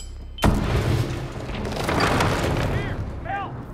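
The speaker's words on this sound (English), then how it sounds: "Throw the grenade down the stairs." A grenade goes off in the Hitman video game, one sudden loud boom followed by a rumbling, fading roar, with brief chirping game sounds near the end.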